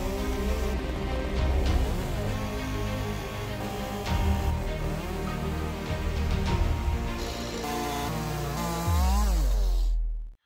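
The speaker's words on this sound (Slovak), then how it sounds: "porovnanie dvoch benzínových reťazových píl" A petrol chainsaw for cutting firewood runs loudly and steadily, its engine droning with slight rises in pitch, then revving up briefly before cutting off abruptly at the end.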